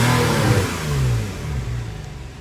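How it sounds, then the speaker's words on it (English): A 2015 Porsche 911 GTS Cabriolet with its normal exhaust setting revs up loudly, the engine swelling, easing back and rising again, close and steady with no talking. "So this is normal exhaust."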